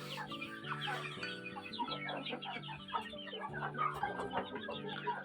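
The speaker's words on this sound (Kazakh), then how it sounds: "Арасында осындай әтештерім бар" Roosters and hens cluck and call together in a backyard poultry shed, a busy overlapping chorus of short clucks and squawks at moderate distance, fairly quiet and continuous with no speech.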